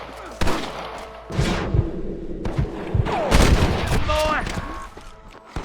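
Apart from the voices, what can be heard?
gunfire from snipers in Red Dead Redemption video game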